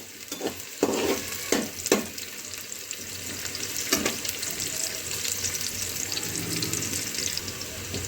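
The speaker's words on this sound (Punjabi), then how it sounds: "ਥੋੜੀ ਥੋੜੀ ਕਰਕੇ ਅਸੀਂ ਹਿਲਾਈ ਜਾਣੇ ਨੇ ਤਾਂ ਕਿ ਪਿਆਜ਼ ਸਾਡੇ ਸਾਰੇ ਇੱਕੋ ਜਿਹੇ ਭੁੱਜ ਜਾਣ" Onions frying with fenugreek in a pan for a potato-fenugreek dish, stirred a little at a time: several clattering spatula strokes early on, then a continuous, even sizzle close by.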